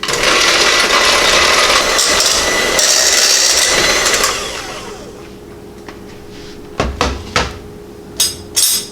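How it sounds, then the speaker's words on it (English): An electric hand mixer mashes home-canned herbed potatoes in a kitchen, a loud steady whir for about four seconds before it stops, followed by a few light clinks and knocks. "I always use an electric mixer."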